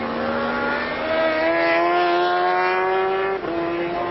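750cc Supercup racing motorcycles at Donington Park, their engines whining loud and high as they rise in pitch through the gears, then dip briefly on a shift before pulling on, with no talking.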